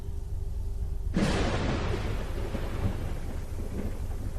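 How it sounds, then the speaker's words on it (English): Thunder in a cartoon storm, a sudden loud crack that rolls into a long rumbling decay over steady rain-like noise. "we're deep into the storm now"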